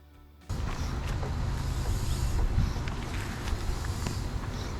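A steady, loud rush of hissing air starts abruptly after a brief quiet moment and continues without a break, air pumped into a damaged riding lawn mower tire.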